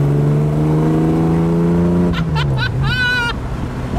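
A Ferrari FXX engine revs loudly and steadily, its pitch climbing slightly before falling away, and then someone speaks over the fading sound.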